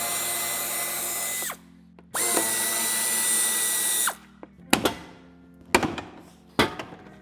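Cordless power drill unscrewing the two screws at the top of the boot opening on a 2024 Toyota Yaris: two sustained whirring bursts with a short gap between, then several sharp clanks and knocks of parts being handled, no voices.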